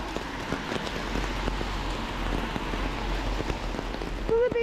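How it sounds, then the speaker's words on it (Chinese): Hail falls steadily outdoors before a visit to a cave system in Maastricht, Netherlands, making a dense patter of small pellets hitting surfaces, with scattered sharper ticks of individual stones and a brief voice near the end. "下冰雹，我人生的第一次冰雹"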